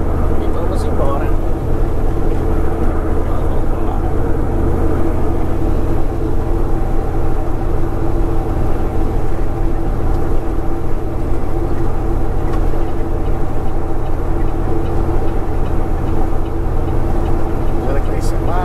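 A truck's engine drones steadily and picks up again after an upshift made without the clutch on a delivery run to Cape Cod, a continuous close rumble running beneath the driver's voice.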